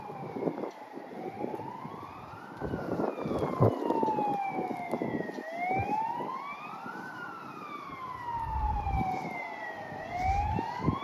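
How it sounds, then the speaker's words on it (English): An ambulance siren wails in long rising and falling sweeps, moderately distant, over background street noise and passing traffic in Surgut, Siberia, Russia. "That's the ambulance."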